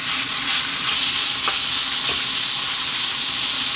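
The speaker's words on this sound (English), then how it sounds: "we're going to fry this for about 4 to 5 minutes. Keep it moving." Thin strips of beef fry in sunflower oil in a wok, giving a loud, steady hiss and crackle that runs throughout, with a couple of faint clicks as the meat is stirred and kept moving.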